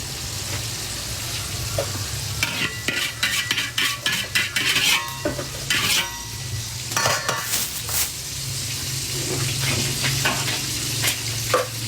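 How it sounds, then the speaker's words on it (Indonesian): Fish fries in a pan on a home stove with a continuous sizzle, broken by bursts of stirring and clinking utensils against the pan, close and fairly loud, with no talking. "Lagi menggoreng ikan."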